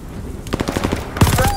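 Rapid automatic gunfire in the video game Call of Duty Vanguard, a tight burst of sharp shots followed after a brief pause by another loud burst, close and punchy.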